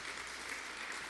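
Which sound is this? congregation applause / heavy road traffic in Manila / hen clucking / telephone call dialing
congregation applause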